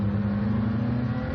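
Race car engine at Mid-Ohio, including the white, black and blue Hagerty Motorsports BMW M4 in a WRL endurance race, droning steadily at high revs with a strong, sustained roar and no breaks.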